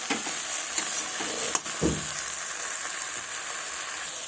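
Cauliflower florets, peas and tomato being sautéed in spice paste for a vegetarian ghonto, giving a steady close frying sizzle with a few soft stirring scrapes and one brief knock, no voices.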